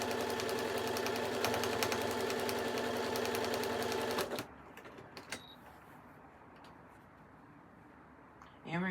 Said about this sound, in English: then I'll sew across again